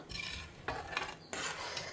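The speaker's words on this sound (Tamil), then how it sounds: "குழம்பு நல்லா கொதித்து எண்ணெய் பிரிஞ்சு வர ஆரம்பிக்கிறது." A thick tamarind curry with jaggery and elephant foot yam balls bubbling in a pot while a spoon stirs it in steady scraping sweeps, close and moderately quiet.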